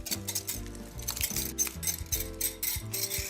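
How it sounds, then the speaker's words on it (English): Dry and wet batter being mixed for salmon fish fry, with a utensil clinking and scraping against a bowl in quick, uneven strokes, close by, over faint background music and no talk. "So now that I have my dry batter, my wet batter, I'm gonna go ahead and mix that all in."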